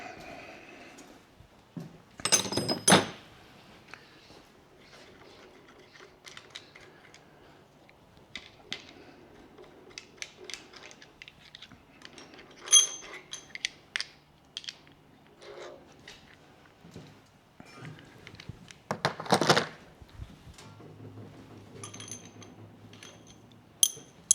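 Metallic clinks and taps of a wrench loosening a rocker arm on a 434 stroker small block Chevy engine, scattered soft ticks with a few louder clanks at intervals, close and quiet, no talk.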